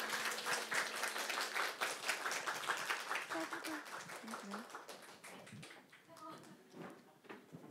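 An audience at a youth culture festival applauds after a singer finishes a song, dense clapping that gradually thins and fades, with faint voices underneath.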